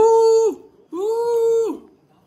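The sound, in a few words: dog whimpering, frightened by balloons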